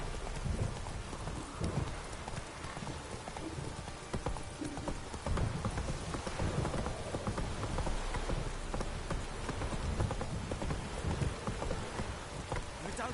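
Roach, a horse in The Witcher 3, gallops through rain, its hooves clip-clopping in a steady, loud, continuous rhythm under a constant hiss of rainfall with occasional rumbles.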